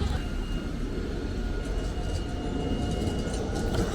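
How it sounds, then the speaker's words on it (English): A tram passes through a city street in Sofia, Bulgaria, a steady broad rumble with rolling wheel noise that holds evenly close by, with no voices over it. "over there we have a tram which we'll go into next."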